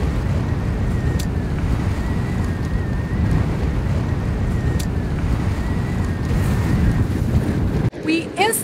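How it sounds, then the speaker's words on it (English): Strong wind roars on a sailing boat heading to an island, a loud, continuous rush buffeting the microphone, with a sudden gust and bump near the end. "We instantly feel the wind."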